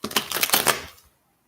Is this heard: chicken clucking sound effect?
no